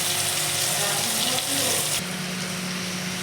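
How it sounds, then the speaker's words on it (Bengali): Prawns fry in hot oil in a wok, a dense, steady hiss that carries on without a break and shifts slightly in tone midway. "এবার কড়াই গরম করে তেল দিয়ে এবার মাছগুলোকে একে একে ভেজে নেব"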